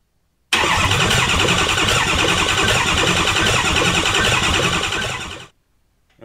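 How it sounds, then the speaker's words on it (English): A Ford Powerstroke 6.4 diesel engine with the fuel system not yet assembled cranking over on the starter, a loud, even, rhythmic churning that runs about five seconds and then stops; no talking. "I'm going to turn it over a couple of times and see if I can get the lifters to prime up before I assemble the fuel system"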